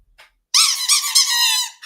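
A squeaky-toy squeak effect played as a shout-out during a live cruise vlog stream, a short rising whistle-like squeal repeated in quick wavering bursts, loud and clear with no talk over it.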